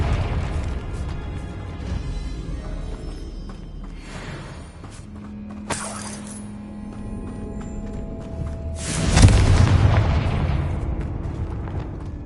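A Confringo blasting spell from a video game detonates in one loud, roaring burst with a long rumbling tail, rising out of steady game ambience after a brief tonal hum.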